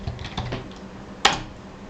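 Several quick keystrokes on a computer keyboard, tapped in a short irregular run and then a single sharper, louder clack near the end, close by against a quiet room.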